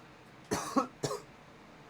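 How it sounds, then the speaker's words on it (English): Two sharp, close coughs in quick succession from a person on a gaming stream, with a small throat sound just before, set against a quiet background. "Apologies, I needed a cough there."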